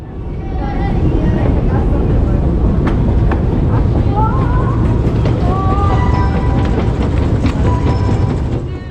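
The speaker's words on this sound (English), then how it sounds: "Traveling with this metro is not a journey by train" A Tbilisi metro train runs underground with a loud, steady rumble and rattling wheel noise throughout, faint squeals rising above the roar.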